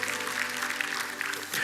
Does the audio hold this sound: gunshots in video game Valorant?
no